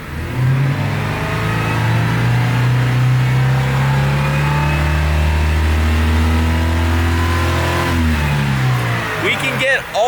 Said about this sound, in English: watch what happens when I only go to about 3/4 throttle and not full throttle